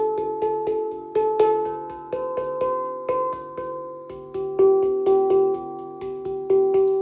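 A metallic, ringing handpan struck repeatedly in a steady rhythm, each note sustaining and overlapping into a shimmering, bell-like wash.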